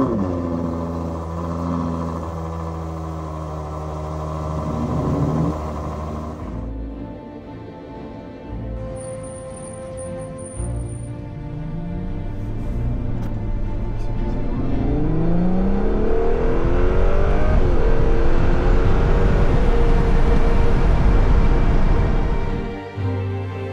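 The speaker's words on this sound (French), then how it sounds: "Se retrouver derrière le volant d'une Ferrari à moteur V12" A powerful Ferrari 12Cilindri Spider V12 engine revs and roars toward 9500 rpm, climbing in pitch through rising sweeps, loud and close throughout.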